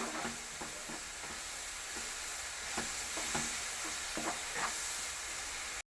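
Chicken sausage curry being stirred in a frying pan, with a steady sizzle under repeated scraping strokes of a spoon against the pan, close and even throughout.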